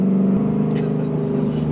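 An 800 HP Cadillac CTS-V accelerates near 3,500 RPM with its rear tyres struggling for grip, a loud steady engine drone that steps up in pitch partway through.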